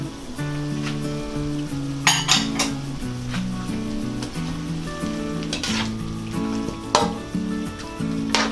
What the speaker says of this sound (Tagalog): Tapos ilalagay ko rin yung rice wine.